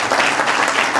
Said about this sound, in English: Get a round of applause for that.